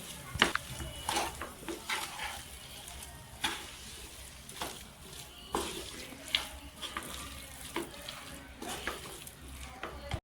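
Boiled potato filling is sautéed and mixed in hot oil in a pan, giving a soft sizzle broken by repeated scraping and stirring strokes.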